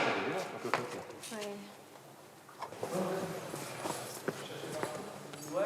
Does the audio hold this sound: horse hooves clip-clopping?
yes